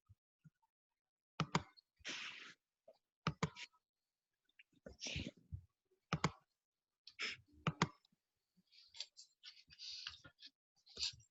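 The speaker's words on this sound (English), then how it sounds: "Just typing away." Typing on a computer keyboard during a Zoom session, heard as scattered bursts of light clicks and taps with short pauses, fairly faint and close, mixed with soft whispery voices.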